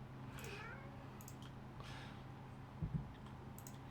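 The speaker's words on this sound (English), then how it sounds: "my cat, he wants the bird outside the window, which he cannot have, obviously." An indoor cat meows repeatedly at a bird outside the window, drawn-out calls over a low steady hum, with a couple of soft clicks near the end.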